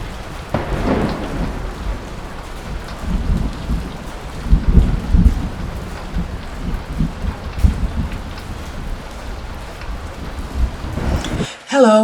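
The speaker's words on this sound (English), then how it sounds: "The eye of the storm is approaching." A loud thunderstorm with heavy rain hissing steadily, thunder rumbling and cracking close by in several bursts, and a brief drop before a new sound starts at the very end.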